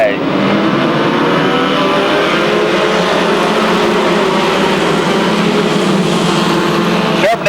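Race trucks roar away at the start of a feature race at Seekonk Speedway, a dense, loud engine drone that swells as the field accelerates, with a commentator talking over it throughout.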